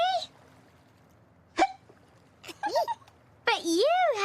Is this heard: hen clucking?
no